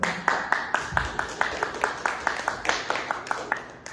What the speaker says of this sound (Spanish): Por favor, brindemos un gran aplauso